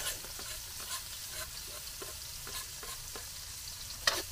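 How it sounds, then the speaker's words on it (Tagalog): Onion and garlic sautéing for a goat kaldereta in the countryside, a spatula scraping the pan in regular strokes over steady sizzling, with a sharp clack near the end; fairly quiet, no voices. "Pag mabango na yung bawang, ayan natin yung sibuyas."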